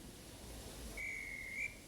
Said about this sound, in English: Just then, the guard's whistle blew, and the two engines set off.